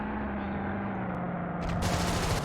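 Automated turrets firing in the vehicle combat game Interstate '82; a dense, steady rattle of gunfire fills the clip, with sharper bursts joining toward the end.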